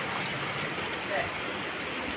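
Heavy typhoon rain pours down during flooding in Cainta, Rizal, a dense, steady hiss of water filling the whole scene with no pauses.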